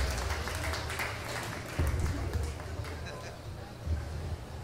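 Audience applause at a live comedy competition event in Ciudad Juárez, steady crowd clapping mixed with chatter and occasional louder thumps, moderately loud throughout.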